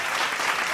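Audience applause at a conference felicitation ceremony where a guest is honoured with a shawl and bouquet: dense, steady clapping from many hands throughout a short burst, with no voices over it.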